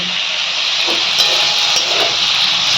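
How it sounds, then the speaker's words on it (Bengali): Boiled, peeled shrimp frying in a pan, heard as a loud, close, unbroken hissing sizzle lasting the whole moment without speech. "তাই চিংড়ি মাছটুকু ভেজে নিই"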